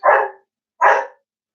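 A dog gives two loud, close barks about three quarters of a second apart, each a short sharp bark followed by silence.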